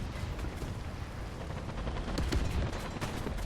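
Gunfire from an SPz Marder A1 infantry fighting vehicle in the War Thunder video game, a dense, continuous rumble of shots and blasts with a louder burst near the middle and no talking.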